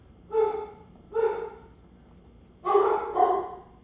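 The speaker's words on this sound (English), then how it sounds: "these dogs are just like so annoying" Several dogs barking in separate bursts: two single barks close together, a pause, then a louder double bark, moderately near with faint room noise between.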